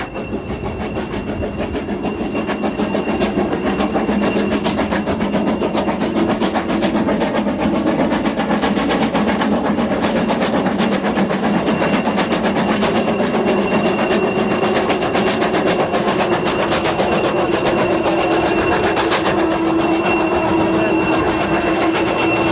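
Steam locomotive Sir Cecil Cochrane pulls an industrial freight train away, its sound building from quiet to a loud, sustained roar of steam and rolling wagons with rhythmic rail clatter, close and continuous.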